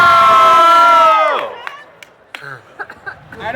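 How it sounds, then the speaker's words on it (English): A costumed-show audience screams and cheers loudly for about a second and a half, then the roar drops away into scattered voices, claps and small noises. "Let me hear you scream for the cowboy."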